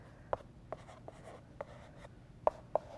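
Chalk writes calendar dates in a quick series of short taps and scratches, six or so distinct close strokes over a few seconds, quiet and without talking.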